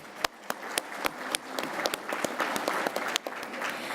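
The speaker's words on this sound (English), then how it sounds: "can I get a big round of applause for all of our awesome sponsors" Audience applause for sponsors at a 2018 healthcare conference session, a steady wash of clapping with sharp individual claps standing out, continuous and moderately loud for the whole stretch.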